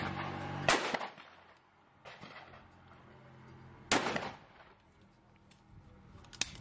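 Beretta DT11 sporting shotgun fired at clay targets outdoors, three sharp loud reports spaced a couple of seconds apart, each trailing into a short decay, plus a smaller click near the end.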